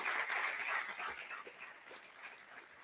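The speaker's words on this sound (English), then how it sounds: "Yes, round of applause." Applause from a seated audience during a county fair coronation ceremony, a soft, steady patter of hands clapping that fades slowly toward the end.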